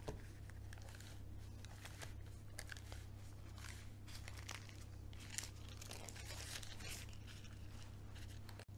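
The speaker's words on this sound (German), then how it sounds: "Die tue ich jetzt ganz langsam und vorsichtig ausrollen, sodass sie dann nicht irgendwo hängen bleibt und reißt." A sheet of puff pastry on baking paper is slowly unrolled, giving continuous soft crinkling and papery rustling up close, quiet, with no talking.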